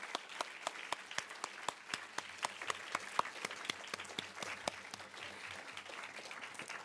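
Sparse, distinct hand claps from a small audience at the Project Inspire 2015 grand finals, applauding the UN Women team, faint and somewhat distant, individual claps standing out over a soft background of clapping.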